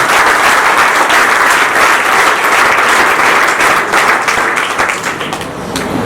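Loud, sustained applause from a large audience of students at a career guidance programme in Charkhi Dadri, Haryana, dense clapping that holds steady and then eases slightly toward the end.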